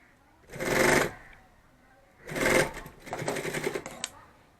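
A sewing machine stitches fabric for a bag in three bursts: a short run, a pause, then two longer runs of rapid mechanical chatter, fairly close and alone.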